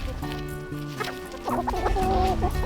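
Chickens kept for egg laying cluck on an organic Minnesota farm, with a few soft low clucks at first and then a livelier run of close clucking.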